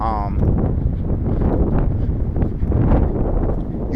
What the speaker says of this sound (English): It is kind of windy out here